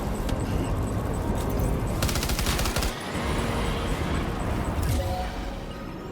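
Rapid rifle fire rattles in dense bursts during a large fight in the video game Death Stranding 2, a sustained gunfire clatter with a brief lull before it resumes, backed by heavy combat noise.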